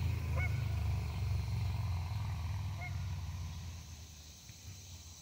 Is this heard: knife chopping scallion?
no